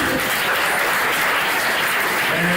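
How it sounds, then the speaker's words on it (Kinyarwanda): Loud, even applause from guests at a church wedding, a thick wash of clapping that holds steady from start to finish. "amashyi menshi"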